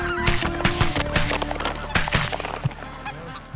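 Speckle-bellied geese honk loudly and repeatedly during a waterfowl hunt, overlapping calls in quick bursts close by, with a few sharp impacts mixed in and no talking.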